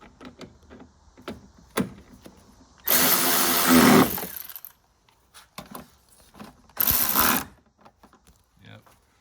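A power drill spins to snug up headlight mounting bolts on a Pontiac G8 front end, with two strong bursts of whirring, the first longer, set among clinks, handling noises and brief speech.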